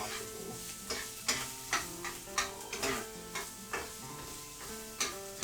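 Scrambled eggs sizzle in a pan under repeated rhythmic stirring strokes, each scrape standing out over a constant frying hiss, with no talking.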